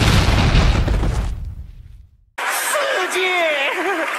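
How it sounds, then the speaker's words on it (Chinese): A cartoon firecracker struck with a hammer goes off in a loud, broad blast that fades away. After a short silence, squeaky cartoon voices and chuckling follow. "你竟然拿锤子敲鞭炮，你也太笨了"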